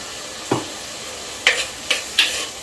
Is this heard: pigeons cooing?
no